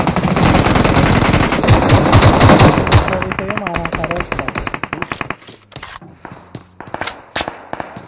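Gunfire in BGMI (PUBG Mobile), loud rapid automatic bursts crowding the first few seconds, then sparser single shots and short bursts, with a voice speaking among them.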